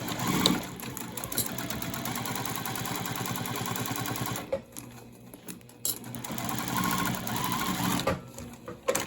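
A sewing machine runs in long steady bursts while stitching a bag seam at a quarter-inch allowance, with a short pause in the middle before the motor starts again, loud and close, with no voices.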